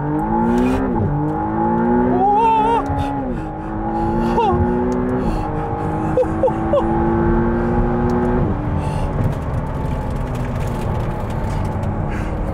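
McLaren Artura V6 supercar at full throttle, engine note climbing hard through several quick upshifts with rising and dropping pitch, loud and close from inside the cabin, settling into a steady drone.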